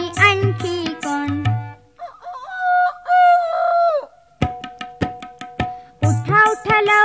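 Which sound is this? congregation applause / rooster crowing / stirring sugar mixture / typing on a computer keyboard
rooster crowing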